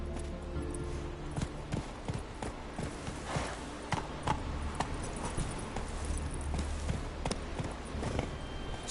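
Roach the horse's hooves clip-clopping in The Witcher 3, a faint, steady trotting rhythm running throughout beneath a low background hum.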